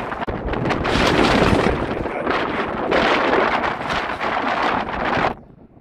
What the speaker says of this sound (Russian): Ветер просто пронзительный.